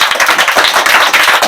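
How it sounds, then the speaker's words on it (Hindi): Classroom pupils clap together in a loud, dense burst of rapid, overlapping claps, close and continuous for a moment. "इसके लिए जोरदार ताली"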